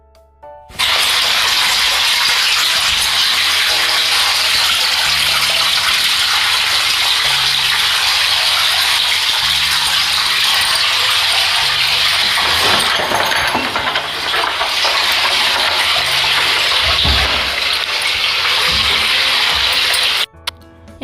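Water from a garden hose pipe gushes steadily into a household container and spills over, a loud continuous rushing splash close by that runs unbroken for about twenty seconds, with no voices.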